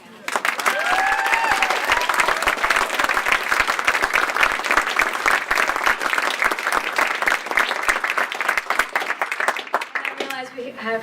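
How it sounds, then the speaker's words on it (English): An audience at a housing panel event claps for the panelists in a dense, sustained round of applause that runs loud and even for about ten seconds and then tapers off, with faint voices beneath it. "give a round of applause to our excellent panelists"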